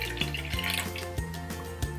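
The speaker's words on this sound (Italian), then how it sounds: "Versiamo un po' d'acqua all'interno della nostra lavatrice." Water trickles and drips as it is poured into a StylPro makeup brush cleaner. The pouring is faint and continuous beneath a steady tonal background.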